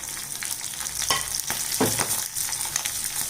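Green chillies and broken dried red chillies fry in hot oil for a Tamil buttermilk kuzhambu tempering with a bright, continuous sizzle. A few louder stirring scrapes and pops cut through it, and no voices are heard.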